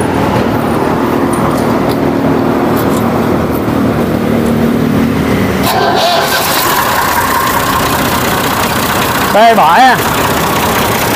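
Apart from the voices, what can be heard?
tractor engine started and running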